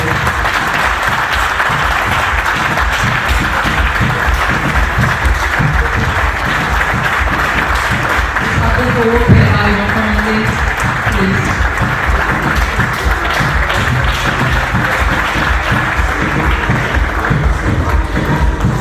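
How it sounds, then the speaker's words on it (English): Sustained applause from an audience filling a hall at a young lawyers' forum, steady and dense clapping throughout with a few brief voices underneath. "can we give a round of applause as we resume our sitting like this?"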